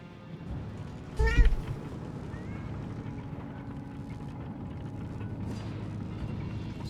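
A cat meows once, briefly and fairly close, over a steady low rumble of engines and game background noise, with no other distinct sounds.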